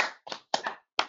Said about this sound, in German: Ich höre nur Klatschen